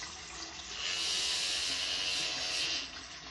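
Hot water rushes from a bathroom tap, a soft steady hiss that swells in the middle and tapers off, heard up close with no talking.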